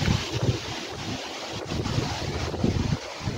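Strong wind buffets the microphone in a vegetable garden with tomatoes, potatoes and shallots, a steady low roar with gusts swelling and easing throughout and no voices.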